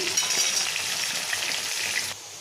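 Pieces of pointed gourd (potol) fry in hot oil, giving a steady close hiss and crackle that drops away just before the end.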